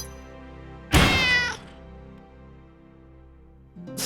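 A single loud cat meow in the video game Final Fantasy VII: Ever Crisis sounds out over a low, steady background hum, then fades away.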